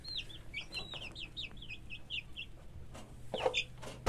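A hen in a coop among newly hatched guinea fowl keets, giving a run of quick, thin chirping clucks early on, then a louder burst of calls near the end over steady low background hum.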